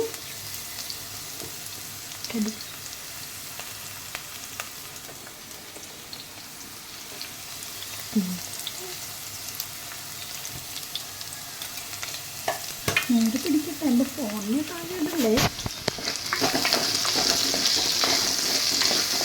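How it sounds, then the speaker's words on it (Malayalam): Sliced okra sautés in hot oil with coconut and turmeric, giving a steady soft sizzle and occasional stirring scrapes, with a person speaking briefly near the end. "നമുക്ക് നല്ലവണ്ണം വെണ്ടയ്ക്ക വഴറ്റണം"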